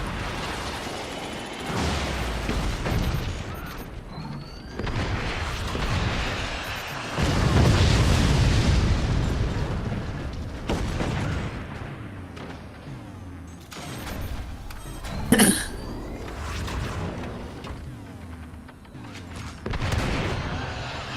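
Rockets exploding in the artillery strategy game Forts, a series of booms and bursts scattered across a busy battle soundscape, with one sharp loud blast standing out midway.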